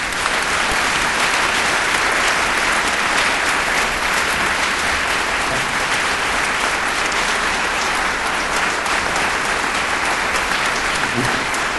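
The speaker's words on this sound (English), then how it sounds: "So please give us a big round of applause." Steady, dense applause from a large audience at a university spring convocation fills the hall continuously for about twelve seconds, loud and even with no pauses.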